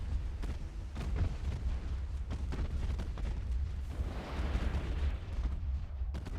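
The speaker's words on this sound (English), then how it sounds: "Hey, that's a solid torpedo." A torpedo strikes a ship in the naval strategy game Ultimate Admiral: Dreadnoughts, giving a sustained rumbling blast with deep low-end booms and crackling debris that swells and lingers over several seconds.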